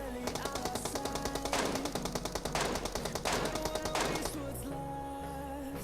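Rapid gunfire from a bolt-action sniper rifle such as the Kar98k, M24 or AWM in a shooting video game, a fast run of sharp shots over music-like game sound, then a break with tonal game audio.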